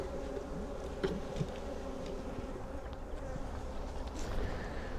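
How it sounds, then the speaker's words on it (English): Honey bees buzz around an open hive during queen-cell removal, a dense, continuous insect hum close by with a few individual bees droning past, fairly quiet and with no talking. "get the bees out of the way"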